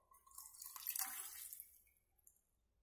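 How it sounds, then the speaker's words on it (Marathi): Water is poured into a pot of cooked whole masoor lentils, a faint gurgling splash that swells for about a second and then dies away to a few drips, with no one speaking. "तेच पाणी याच्यामध्ये परत टाकतोय."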